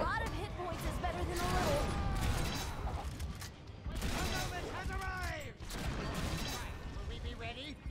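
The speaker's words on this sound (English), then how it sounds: "That was an interesting shot. It sort of bounced off the wall and his head before exploding." A cannonball shot bounces and explodes in the game Orcs Must Die! Unchained, amid a busy mix of repeated booms, crashes and gunfire-like bursts, with game music and effects running throughout.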